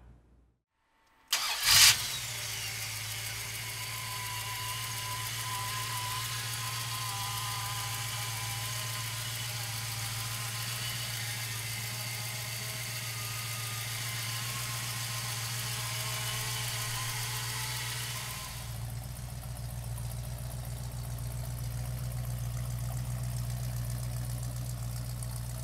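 A 1970 Plymouth Cuda with a 440 engine cranks and fires up after a moment of quiet, then settles into a steady, rumbling idle that drops slightly in tone near the end.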